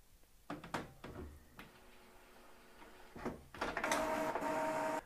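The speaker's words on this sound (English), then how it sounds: "And you can hear it's printing out." An HP ENVY 5032 inkjet printer prints a page: a few mechanical clicks and clunks, then a steady feeding whir that swells toward the end, with no one speaking.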